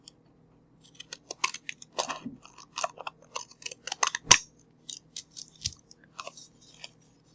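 Scissors snipping paper while crafting an envelope, a quick run of close, crisp cuts and rustles in a quiet room, with one sharp louder snip partway through.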